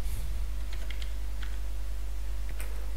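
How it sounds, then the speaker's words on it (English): A phone number being typed on a computer keyboard: a few quick, fairly soft key taps over a low steady hum, with no voice. "So I'm going to type my phone number."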